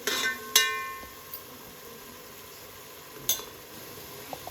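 Onions and garlic fry softly in hot oil for a country chicken sambar, a low sizzle running underneath. A spoon clinks and scrapes against the pan a few times, with sharp bright taps near the start and again toward the end.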